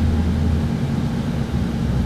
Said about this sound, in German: Hier kommt noch ein Flugzeug.